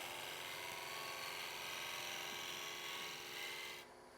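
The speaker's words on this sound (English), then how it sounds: "This is not a shear cut, but it's more of a pull cut." A bowl gouge makes a pull cut across a spinning wood bowl on a lathe, giving a steady, close, rasping hiss of shaving wood that holds evenly and then drops away abruptly near the end.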